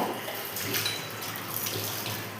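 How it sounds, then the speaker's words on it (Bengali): Running tap water splashes steadily while stainless steel bowls are rinsed at a sink, a continuous close wash with no talk. "আমি এই ট্যান স্টিলের বাটিগুলো ব্যবহার করি। তো ওটাই আর কি ধুয়ে নেব।"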